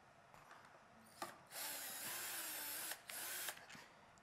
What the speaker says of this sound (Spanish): con mi punta Phillips voy a desatornillar